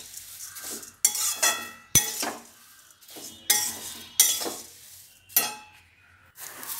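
Flattened rice (chira) dry-roasted in a pan, with no oil, and stirred: repeated scraping and clinking bursts of a utensil against the pan, several sharp strokes in an irregular rhythm, close and fairly loud, with no talking.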